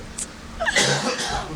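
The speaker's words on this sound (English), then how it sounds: "Can you stop coughing?" A person on a phone call gives a harsh cough burst, close and loud, with a short breathy sound just before it and no words spoken.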